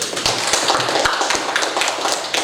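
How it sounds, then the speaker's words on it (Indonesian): Applause fills a classroom: a dense, loud burst of many hands clapping continuously for a couple of seconds, close and lively. "Aplaus dulu."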